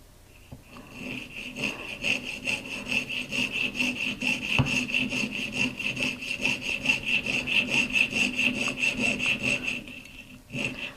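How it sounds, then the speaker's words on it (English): A jeweler's saw pierces out a center hole in metal for a handmade sister hook, producing steady, rhythmic back-and-forth rasping strokes, close and clear, continuing for about ten seconds with no talking. "I need to drill out and pierce out that center hole"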